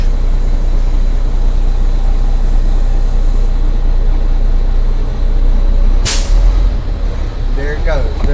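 A truck's air brake system purges air in one sharp, loud burst of hissing over a steady engine idle, and a few soft rattles follow it.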